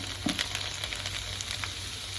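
Garlic sizzles in hot oil with popped mustard seeds in a clay pot for a Kerala fish curry, a steady close frying hiss with a few soft stirring knocks near the start.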